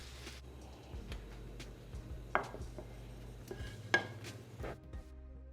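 Caramelizing onions are stirred in a cooking pot on medium heat, a spoon clinking and scraping against the metal in scattered soft knocks over a quiet background, faint and close.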